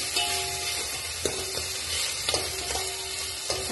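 A sambar tempering sizzles steadily in a pan, loud and close, with a few short clinks and scrapes of the spatula as it is stirred, and nobody speaks.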